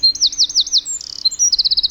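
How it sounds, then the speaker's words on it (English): A Eurasian wren sings alone and close, with bright, rapid trilled phrases: four quick repeated notes, a brief buzzy trill, then a fast run of sharp, evenly spaced notes. "here's a cute little Eurasian wren singing his heart out while flapping his tiny"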